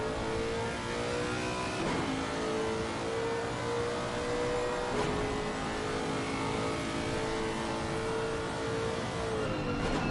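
A race car engine in Assetto Corsa Competizione, at Zandvoort, revs and drones continuously at high pitch, with a few gear-shift dips, loud and steady throughout with no talking.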